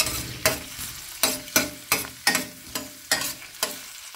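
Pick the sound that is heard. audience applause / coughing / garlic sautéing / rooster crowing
garlic sautéing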